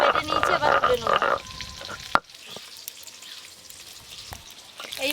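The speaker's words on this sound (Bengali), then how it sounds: "এই মাছগুলো ভাজা হয়ে গেল" Tangra fish frying in oil, with a busy crackling sizzle at first and a sharp click partway through, then a much quieter, low hiss with scattered pops before the frying grows louder again at the end.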